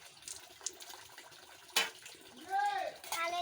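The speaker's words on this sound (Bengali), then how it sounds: "আমার থাল বাসন মাজা হয়ে গেছে, এবার ধুবো এক এক করে সবগুলো, আর একটু ভালো জল দিয়ে ধুবো।" Water splashing and running as scrubbed metal plates and dishes are rinsed one by one, a steady close wash with a brief sharp clatter midway and louder pouring near the end.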